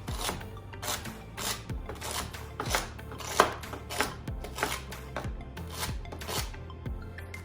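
A knife chops stems off vegetables on a cutting board, making a steady series of sharp, close thuds with a scraping edge, about one every half second, with no talk.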